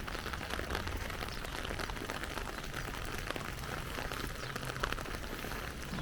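Steady rain falls during a week of wet weather in Abu Dhabi, a dense continuous hiss of drops on surfaces that stays even and close throughout.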